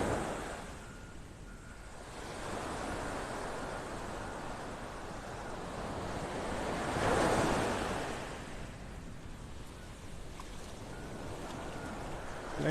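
Gulf of Mexico surf rolling onto Vanderbilt Beach in North Naples, Florida, as the tide comes in: a continuous wash of breaking waves with swells in loudness, mixed with wind rumble on the microphone.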